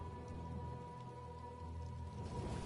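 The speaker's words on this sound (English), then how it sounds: "I could do without this damnable rain. It's been storming since we arrived," Heavy rain storm in Elder Scrolls Online, a dense continuous hiss of rainfall with a low rumble beneath and a faint steady tone, no speech.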